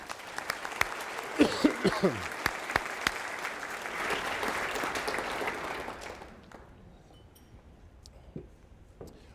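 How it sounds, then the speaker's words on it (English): An audience at an education keynote breaks into applause, scattered claps building into a dense, steady round that fades out after about six seconds, with a few voices audible early and stray claps trailing off afterward. "Let's give them a round of applause."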